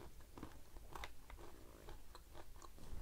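A walnut being bitten and chewed up close, with a series of small crunchy bites and grinding sounds over about three seconds, no talking.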